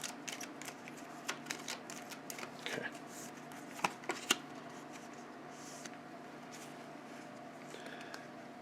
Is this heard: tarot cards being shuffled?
yes